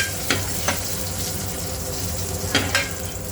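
Tomatoes fry in hot oil in a pan, giving a continuous sizzle close by with a few sharp stirring clicks and scrapes, two early and two near the end.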